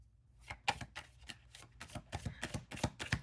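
A tarot deck is shuffled by hand in a run of crisp, papery riffles and flicks, about a dozen bursts growing denser and louder toward the end, close up in a quiet room with no talking.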